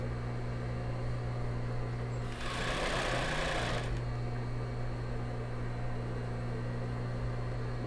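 A sewing machine runs in one short burst of about a second and a half while stitching a cross-front bra, set against a steady background hum, with no talking.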